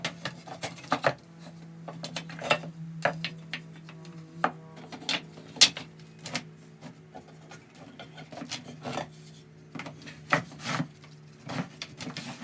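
Wooden blocks for a large end-grain cutting board, of mixed wood species, knocking and sliding against one another as they are shuffled on a bench, giving scattered sharp clacks and rubbing scrapes over a steady low hum.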